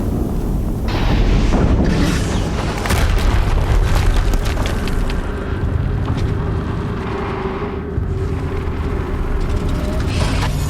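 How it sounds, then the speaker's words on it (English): A loud, sustained booming rumble from explosions in the video game Horizon Zero Dawn, with dense low-frequency roar and crackling bursts filling the whole stretch, alone with no speech. "Another explosion."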